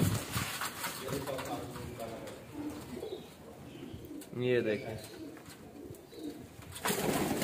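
Pigeons of mixed breeds coo and burst into flapping flight as someone walks toward them, with a loud flurry of wings midway and again at the end, under a man's nearby speech.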